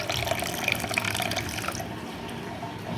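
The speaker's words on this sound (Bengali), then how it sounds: "এবার এখানে দিয়ে দিচ্ছি অল্প পরিমাণ জল" Water being poured into a bowl of rinsed sago pearls, a close splashing trickle that runs steadily and then tapers off to quieter dribbles.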